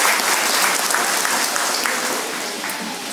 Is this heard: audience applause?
yes